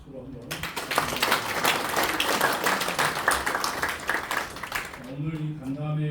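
An audience at a Korean church leaders' press meeting applauds to welcome attendees, a full, dense round of clapping swelling after a brief spoken lead-in and fading into renewed speech near the end.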